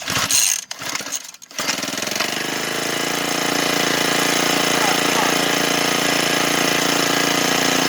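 A small gas scooter engine stutters through a few rough bursts, then settles into a loud, steady buzzing run close by during a kill switch test.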